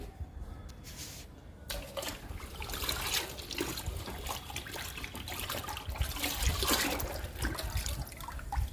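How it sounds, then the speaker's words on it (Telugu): Liquid fertiliser is poured onto indoor houseplants, a continuous splashing and trickling of liquid that swells and fades over several seconds, nearby with no voices. "ఇప్పుడు లిక్విడ్ ఇచ్చేద్దాము మొక్కలన్నిటికీ."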